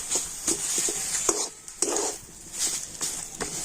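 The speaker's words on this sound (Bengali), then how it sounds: "সমস্ত মশলা দিয়ে আবার আমি ভালো করে নাড়াচাড়া করে নেব" A semolina snack filling is stirred with spices in a pan, with repeated close scraping and knocking of a spoon against metal in an irregular rhythm and no voices.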